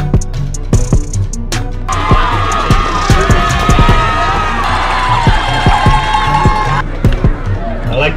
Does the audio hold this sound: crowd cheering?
yes